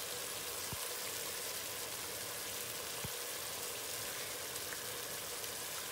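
Meat masala for mutton biryani fries in a pan with a steady, soft hiss of sizzling throughout, broken only by two faint clicks.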